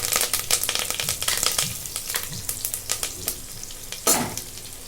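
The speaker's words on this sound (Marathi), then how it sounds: "आता कुकरमध्ये तेल ओतून घेतले कुकरमध्ये बनवते जिरे टाकून घेते कढीपत्ता" Cumin seeds and curry leaves fry in hot oil inside a pressure cooker, giving a steady crackling sizzle with quick stirring clicks throughout and a louder burst of spluttering near the end.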